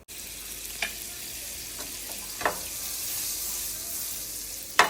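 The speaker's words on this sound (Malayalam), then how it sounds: "അമ്മ അടുത്ത നാല് പീസ് എടുത്ത് ബട്ടറിനകത്ത് വെച്ച് കൊടുക്കുന്നുണ്ടേ" Chicken pieces frying in melted butter give a continuous sizzle, with a few brief clinks and handling sounds from the pan, and no one speaking.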